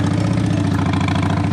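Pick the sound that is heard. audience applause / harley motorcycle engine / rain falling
harley motorcycle engine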